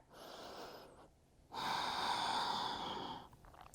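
Deep yoga breathing during a guided moon salutation: one soft exhale fades out, then after a short pause a long, full, airy inhale is drawn in, close and clear, with no talking.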